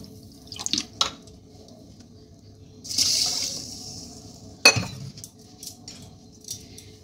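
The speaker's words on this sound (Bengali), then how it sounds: "এবার এই বাটিরই 1 বাটি মতো জল দেব।" Water is poured from a bowl into a pot for sugar syrup, a few short splashy pours with brief clinks of the bowl in between, faint and close in a quiet kitchen.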